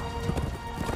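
Horse hooves clip-clopping during a horseback ride in an X-Men '97 cartoon episode, a rapid run of hoofbeats under a busy soundtrack, steady and fairly loud.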